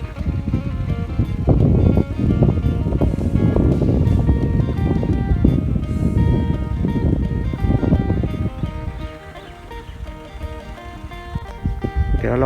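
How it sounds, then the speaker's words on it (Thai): Wind gusts across open rice paddy fields during the rainy planting season, a loud, steady broadband rush with buffeting microphone rumble that eases briefly near the end. "ลมนะครับ"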